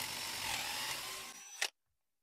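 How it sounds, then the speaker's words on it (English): A twist drill sharpened to a 3000-grit finish bores a hole, giving a steady high whirring grind close by that ends in a brief sharp burst as the bit breaks through, then silence. "Let's drill the hole and see what it is."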